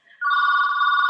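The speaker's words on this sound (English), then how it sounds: "that's my phone. I can't turn it off." A phone rings with a steady electronic tone that starts quietly and quickly swells to a loud, sustained ring, with no one talking over it.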